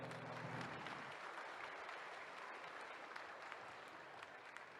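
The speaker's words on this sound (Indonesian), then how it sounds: "Sekali lagi boleh kita berikan aplaus yang paling meriah." Audience applause fills a hall at an honorary doctorate ceremony, steady dense clapping throughout at a fairly even level, with no voices standing out.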